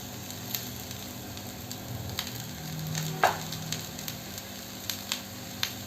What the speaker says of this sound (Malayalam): ഇനി ഇതെല്ലാം കൂടി നല്ലതുപോലെ ഒന്ന് ഫ്രൈ ചെയ്യാം